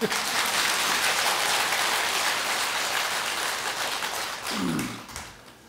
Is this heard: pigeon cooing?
no